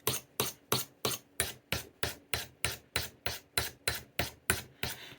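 A knife being sharpened by hand, the blade struck against the sharpener in a steady series of about fifteen crisp, evenly spaced rasping strokes, close and loud with no talking.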